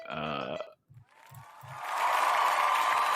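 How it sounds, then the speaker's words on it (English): A small studio group applauds after a homemade wheel is revealed, the broadband clapping swelling to steady, moderately loud applause over the last second and a half, preceded by a sung or shouted voice and a few low thumps. "Give it a round of applause."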